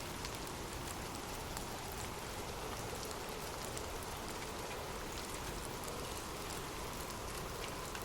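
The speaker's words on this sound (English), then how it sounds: "Imagine gentle raindrops falling softly on leaves" Gentle rain falls steadily on leaves, a dense, even patter of drops that hisses on without pause, soft and alone.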